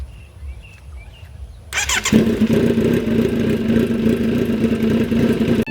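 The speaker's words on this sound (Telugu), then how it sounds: "కొంచెం స్టార్ట్ చేసి కొంచెం రెవ్ చేద్దాం, ఈజీగా హీట్ అయిపోద్ది." Kawasaki Z900 with an AR full-system exhaust cranks and fires up after quiet birdsong, then settles into a loud, close, rumbling idle with light blips of revving.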